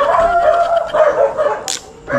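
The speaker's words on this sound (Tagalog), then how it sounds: "Ang ingay ng mga aso, ah." Several dogs bark and yip near a motorcycle taxi on a street, loud and continuous with a tonal whine running through and a brief burst near the end.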